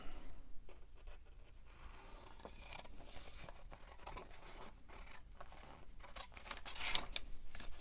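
Scissors cutting through a paper napkin along a printed line, a faint, close run of small snips and papery rustles that keeps going steadily, with one slightly louder snip near the end.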